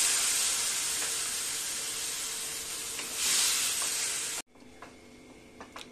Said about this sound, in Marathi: टोमॅटो व्यवस्थित भाजून घेऊ.